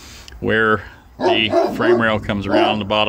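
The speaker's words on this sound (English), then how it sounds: "Excuse the barking dogs." Neighbor's puppies bark and yip in the background while someone talks steadily over them about a car's frame rails.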